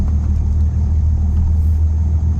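A Volvo FH12 truck's 12-litre engine in Euro Truck Simulator 2 gives a deep, loud, steady bass rumble, close and unbroken with no voices over it.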